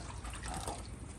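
Clean water rinsing loosened dirt off a car engine during an engine cleaning, a close, steady splashing and trickling wash with dripping, no talk.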